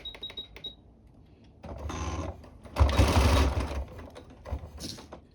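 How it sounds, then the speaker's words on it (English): A sewing machine stitches down plastic boning, starting with a few slow single stitches and then whirring in two loud continuous runs up close. "So I'm going to sew down this side first."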